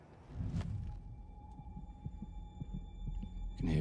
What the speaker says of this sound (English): I can hear their heartbeats.